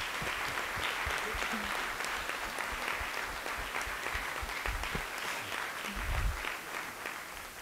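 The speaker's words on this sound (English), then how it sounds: "Please join with me in applauding our six candidates." Attendees at a public forum for a diversity and inclusion director applaud six candidates, a continuous roomful of clapping with some low thumps and shuffling, moderately close and steady throughout.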